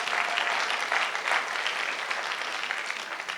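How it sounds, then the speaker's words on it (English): A live show audience gives a steady, full round of applause, dense clapping throughout with no talk over it. "Give Brian Cressy a round of applause"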